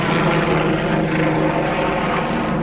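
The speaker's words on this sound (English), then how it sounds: "Helicopter going overhead." A steady, loud rotor-and-engine drone of an aircraft, like a helicopter passing overhead, continuous with no voices.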